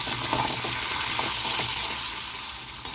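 Chili powder and curry leaves sizzle in hot oil as a tempering for amaranth dal, giving a close, continuous hissing fry with light crackles and no voices.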